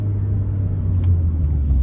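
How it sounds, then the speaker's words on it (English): A 2022 Mazda Miata's engine drones steadily while driving at part throttle, a close, continuous low rumble with mild road noise and no strong revving. "I'm not trying to full throttle it so much because I don't want to hurt this car, but it's such a fun car to drive"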